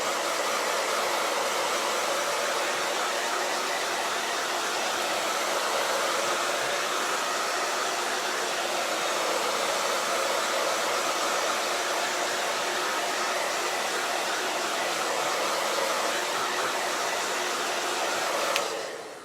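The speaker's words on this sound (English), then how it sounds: "I'm gonna dry it with a hair dryer." A hair dryer blows steadily on a chalk transfer on a wooden birdhouse, a continuous close, loud whooshing hiss that holds unchanged for about nineteen seconds before cutting off abruptly at the end.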